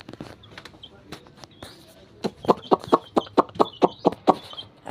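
Chickens and chicks clucking as they are shut in for the night, with a quick run of sharp, regular knocks and rustling near the end and a voice speaking quietly in the background.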